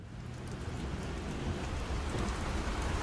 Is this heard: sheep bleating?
no